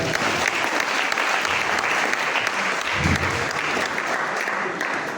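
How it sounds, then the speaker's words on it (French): Sustained applause from a large church congregation in Congo, dense and even clapping that fills the whole stretch without pause. "applaudissez pour vous-même."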